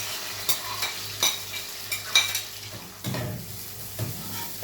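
Ghee sizzles and crackles in a pan with cumin seeds, a steady hissing fry broken by several quiet stirring scrapes and taps from a utensil, with no talking.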